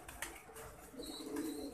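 Soft, low pigeon cooing close by in a breeding section, a couple of murmuring coos against a quiet background.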